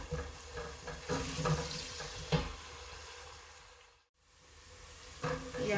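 Onions frying in a pan until golden brown for a spinach and potato dish, a steady close sizzle with occasional stirring scrapes, briefly dropping out near the end before resuming.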